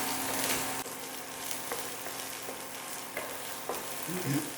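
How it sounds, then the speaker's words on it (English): Garlic and chili peppers fry in oil in a pan with a dense, steady sizzle and a few soft stirring scrapes, close, with no voices over it. "Now we're gonna fry the garlic and the chili peppers."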